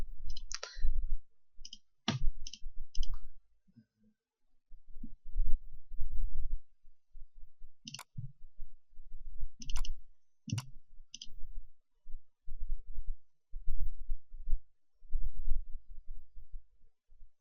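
Right-clicking with a computer mouse: scattered short, crisp clicks, some in quick pairs, over soft low thumps of handling.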